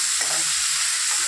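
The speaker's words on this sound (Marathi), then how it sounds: "तो कांदा टमाटा आपण टाकून घेतलेला आहे आणि आपण याला एकदा परतून घेणार आहोत" Onion and tomato sautéing in a pan for cabbage bhaji, a brief, loud, continuous sizzle heard close up without speech.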